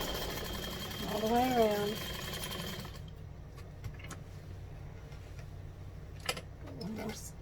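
A sewing machine stitches the seam of a fold-over clutch with a whirring run for a few seconds, then quieter ticks and clicks, while someone talks throughout.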